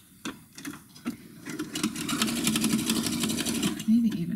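A sewing machine running a very short stitch, its needle chattering in a fast, steady mechanical rhythm that builds after a few brief starts and stays close and fairly loud.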